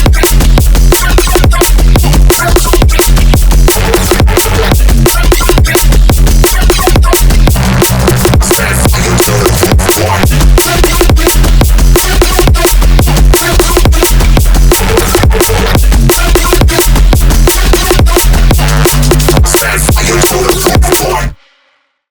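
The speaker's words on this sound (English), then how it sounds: "how to make another classic NEUROFUNK synth" A heavy neurofunk drop synth built in Serum 2 in FL Studio, in the style of Audio, Ed Rush and Noisia, plays loud and dense with driving drums for about twenty seconds, then cuts off abruptly.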